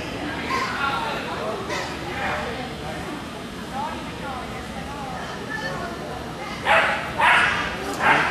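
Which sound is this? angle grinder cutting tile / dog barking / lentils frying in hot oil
dog barking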